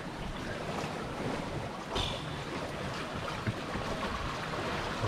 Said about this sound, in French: Vu que le vent ne tombe pas.